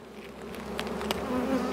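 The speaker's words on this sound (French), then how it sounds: "C'est rempli d'abeilles." Dense, continuous buzzing of many honeybees from an opened hive packed with bees and brood frames, close and steady throughout with no talking.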